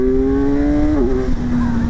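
A 2026 Kawasaki Z1100 motorcycle engine revs loudly and up close under throttle, its steady droning pitch climbing, then dipping briefly before settling into a sustained roar, with a voice faintly present underneath.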